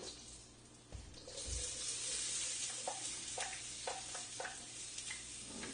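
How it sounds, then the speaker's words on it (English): Onion pieces hitting a hot pan in a home kitchen stir fry, a steady hiss of sizzling oil with a couple of low thumps near the start and faint scraping clicks later on. "Drop an onion in there, see if things are starting to get ready"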